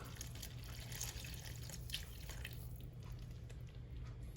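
A brief, faint trickle of water splashes into a hot pan of smothered steak and gravy over a low steady hiss and sizzle, with light drips near the start.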